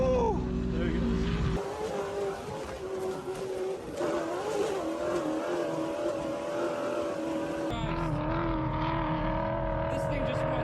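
A fast car tearing across the Glamis sand dunes, its engine roaring and shifting pitch as it accelerates, with a sudden cut partway through and people talking and shouting over the noise.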